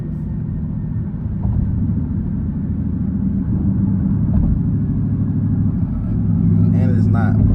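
Straight-piped exhaust of a 2014 Jeep Grand Cherokee Overland with the Hemi V8 gives a deep, steady rumble that swells slightly toward the end, with voices faintly present over it.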